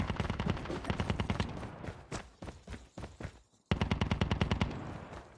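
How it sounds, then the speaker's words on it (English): Rapid automatic gunfire in Call of Duty Mobile battle royale, sustained bursts close and loud with a brief gap before another rattling volley. "You're hearing some shots over here."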